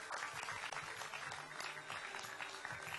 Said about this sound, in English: one big round of applause for my backstage team